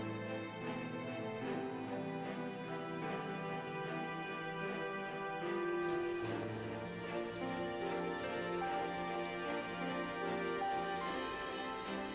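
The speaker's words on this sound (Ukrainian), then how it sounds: "бо вже під вечір пішов дощ і сніг розтанув" Steady evening rain pattering on a surface as snow melts, mixed with continuous tonal music that carries through the whole stretch.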